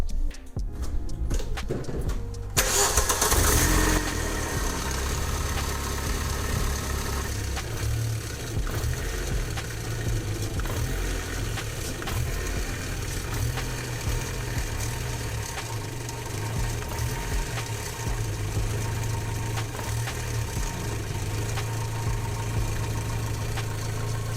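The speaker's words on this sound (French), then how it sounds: "Le moteur il broute toujours." A Volkswagen Golf 3 GTI 16V engine cranks and catches, then runs with an uneven, shuddering rumble that pulses roughly for a long stretch, close by with no talking.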